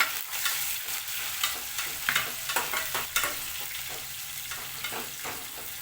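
Onions frying in oil with peanuts for oats upma, a bright, steady sizzle punctuated by frequent stirring scrapes and clicks, close and moderately loud, with no speech.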